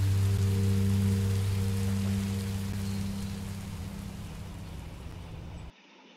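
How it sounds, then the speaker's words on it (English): Steady rain falling in the video game Minecraft: Story Mode, a continuous hiss with a low droning hum underneath, slowly fading before cutting off near the end. "Rain is better than monsters."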